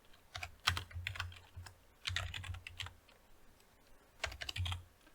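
Bursts of rapid typing on a computer keyboard, three clustered runs of clicky keystrokes separated by brief pauses, close and fairly loud with no talking.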